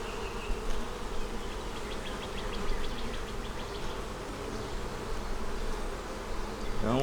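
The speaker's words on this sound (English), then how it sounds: "Don't want to squish the bees." Dense, steady buzzing of many honey bees swarming close by around a hive, a continuous hum with a brief rising tone at the very end.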